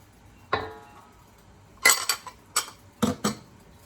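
A spatula scrapes and clinks against a bowl while coconut milk is mixed into flour, a single knock followed by a cluster of sharp, close scraping strokes in an otherwise quiet kitchen.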